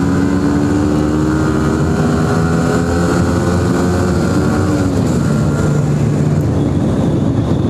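A Yamaha R15 V3 motorcycle ridden on an open road, its engine holding a steady, loud drone with smooth rising and falling revs under constant wind rush, no voices.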